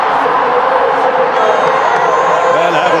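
A packed crowd of close to 120,000 cheers and roars continuously at an India versus New Zealand T20 cricket match, a dense, loud wash of shouting and whooping that never lets up.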